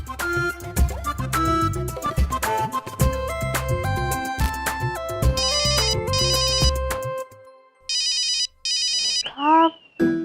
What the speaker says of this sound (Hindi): फोन उठाइए, फोन बज रहा है।